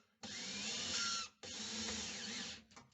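Power screwdriver driving a screw into a concealed cup-style cabinet hinge, two sustained whirring bursts with a short gap between them, close and loud, followed by a brief rattle as it stops.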